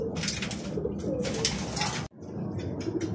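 Racing pigeons coo in a loft, with steady low cooing from several birds close by and occasional chirps over a continuous busy background.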